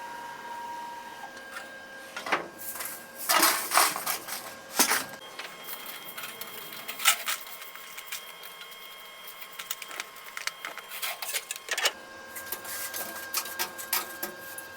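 Bristles scrape and swish in irregular bursts as metal chips are swept off a machine's chip guard, with a clattering peak early on and scattered rasps after, against a steady mechanical hum.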